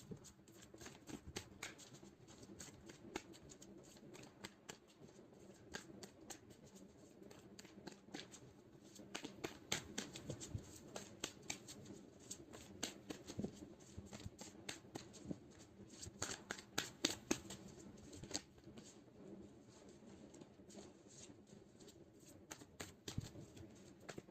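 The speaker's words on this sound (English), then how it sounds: "So let's pull some cards from universe where this connection is headed on and the outcome in the next 3 months." Tarot cards being shuffled by hand, giving faint, soft riffling and flicking rattles in irregular bursts at close range, with no talking.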